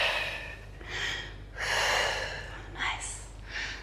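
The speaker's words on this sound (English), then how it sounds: "Exhale through pursed lips." Breathy exhalations through pursed lips during a full-body Pilates workout, a few soft airy bursts repeating at a steady pace, close and moderately loud with no other talk.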